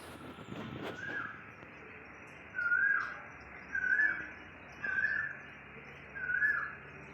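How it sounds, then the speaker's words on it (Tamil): An Asian koel calls four times in short rising notes, evenly spaced, ringing clearly over a quiet background with faint distant rumble. "இந்த குயில் கத்துற சத்தம் வந்து ரொம்பவே பிடிக்கும்"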